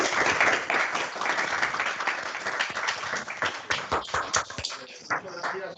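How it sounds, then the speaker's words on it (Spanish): Sustained applause from a sizable crowd, dense steady clapping with a few louder claps standing out, continuing for several seconds without talk. "Podemos aplaudir"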